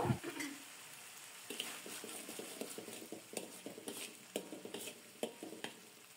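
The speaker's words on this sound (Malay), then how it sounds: "Kacau bagi sebati semua bahan-bahan perasa tadi." A utensil scrapes and taps against a pan in a steady stirring rhythm while seasoning is stirred into spinach and egg stir-fry, with faint sizzling beneath the clatter.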